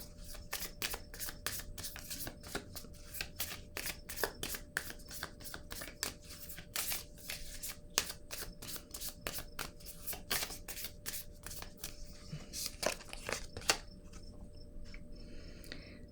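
Tarot cards are shuffled and drawn by hand, producing a quick run of soft, crisp flicks and taps close by and fairly faint, with no talking.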